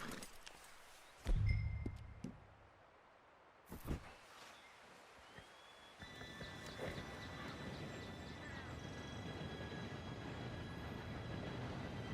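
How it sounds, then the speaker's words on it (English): An approaching train in Red Dead Redemption 2 starts as a low, distant rumble, then swells into a steady rolling clatter that keeps building. A few heavy thumps come earlier against quiet ambience. "Train should be here any minute."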